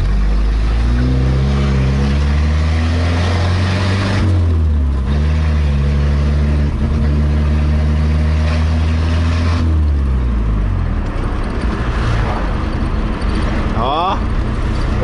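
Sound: Chevrolet Opala car engine revving while driving

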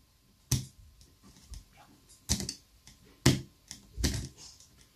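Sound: screwdriver turning cordless angle grinder motor gear by hand

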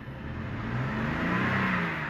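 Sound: 2012 BMW with swapped N55 engine accelerating, turbo

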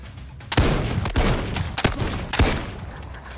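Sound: gunfire in the video game Zero Caliber VR

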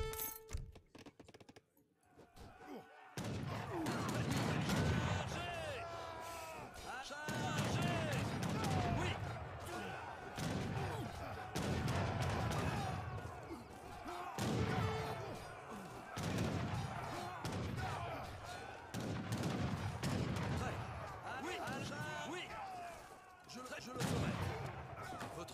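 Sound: cannon fire in the video game Age of Empires 3

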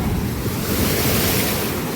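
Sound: strong sea waves crashing on the shore

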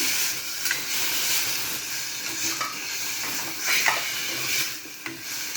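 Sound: crushed tomato added to frying onions, sizzling

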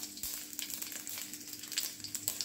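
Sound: sauce and garlic sizzling in hot oil

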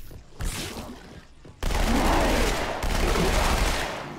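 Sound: suppressive gunfire from the video game Halo 2

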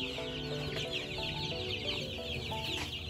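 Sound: chicks clucking at a petting zoo

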